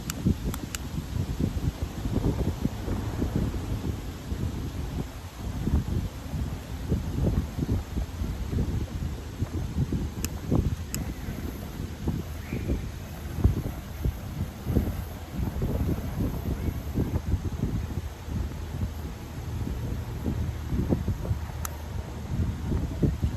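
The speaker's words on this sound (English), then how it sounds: "Windy out here." Gusty wind buffets the microphone outdoors at a campsite, a continuous low rumble with rustling and occasional sharper knocks, no voices.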